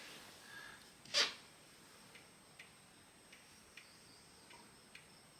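A pendulum clock ticks out of beat, giving faint, sharp clicks at uneven intervals in a quiet room, with one louder knock near the start.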